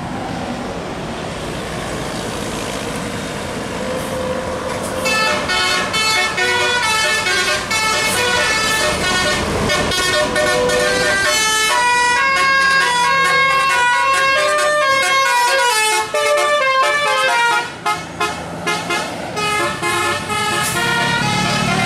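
Telolet horns on buses blare a series of loud, melodic tooting tones in changing patterns, one after another over a steady road and engine rumble, with some voices in the background.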